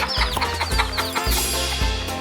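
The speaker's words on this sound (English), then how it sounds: "This is a chick." Chick clucking close up in a short series of loud, repeated calls with brief gaps between them.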